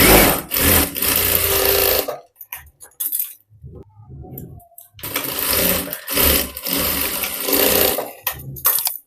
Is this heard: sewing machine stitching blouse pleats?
yes